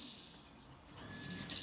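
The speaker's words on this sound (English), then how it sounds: "There's a shower pump kicking in there." An electric shower pump kicking in as a thermostatic shower mixer bar is tested, a steady mechanical whirring hum with rattly texture, fairly loud and close, rising slightly in level toward the end.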